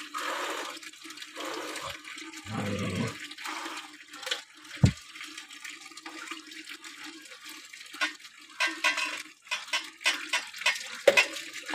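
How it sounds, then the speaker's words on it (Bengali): Cold tap water splashes and pours during a bath, with irregular loud gushes, drips and clatters near the microphone and no talking. "একদম টাইম কলের জল দিয়ে স্নান চলছে"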